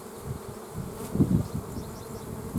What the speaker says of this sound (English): As you can see, they're already clambering around the front to get in.